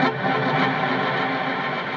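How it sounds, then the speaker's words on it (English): A sustained electric guitar tone washes out in long delay repeats and reverb, smooth and continuous with no sharp attack. "I'm using like a couple of delays on a reverb to get the sound"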